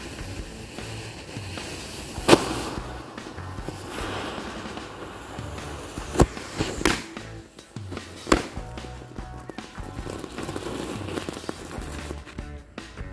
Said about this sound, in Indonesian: Selanjutnya kita nyalakan mercon tank. Ini ada 2 buah sekaligus.